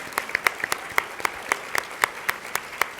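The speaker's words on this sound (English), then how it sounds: "Yes, that deserves a clap." Small audience at an event clapping for a welcomed state attorney general: sparse, distinct claps from a handful of people in a loose rhythm, fairly close and moderately loud, with no talk over them.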